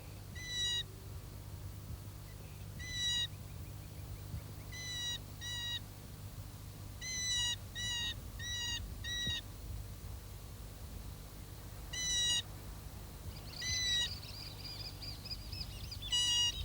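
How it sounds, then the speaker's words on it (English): Juvenile chimango caracara in a marshland begging its parent for food, giving repeated bursts of thin, high, rapid squealing calls at irregular intervals over a low steady background hum. "This juvenile is begging the parent bird for food."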